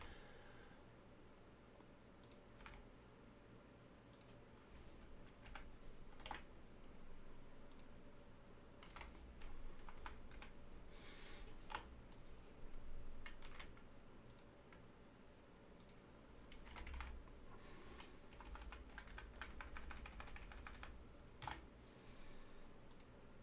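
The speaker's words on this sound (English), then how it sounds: "Apparently I'm hitting keys I shouldn't be." Computer keyboard typing at a desk while writing UE5 C++ code, with irregular bursts of key clicks over a steady low background hum, fairly quiet throughout.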